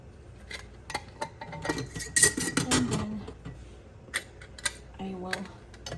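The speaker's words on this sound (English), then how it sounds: "I will tighten their lids just gently so that the lids can get sterilized again." Metal lids are tightened onto glass jars of cucumbers in mustard, giving scattered clicks, scrapes and light clinks of metal on glass, near and fairly faint, with a voice talking in between.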